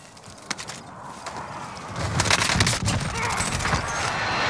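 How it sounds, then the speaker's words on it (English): A precision airstrike in an online shooter video game lands as a rolling burst of explosions and rapid gunfire, building louder and denser over a few seconds, with players talking in between. "Friendly precision airstrike inbound."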